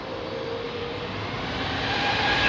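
A Douglas DC-6 propeller airliner at Heathrow Airport, its engines droning steadily and growing gradually louder as it nears, no voices.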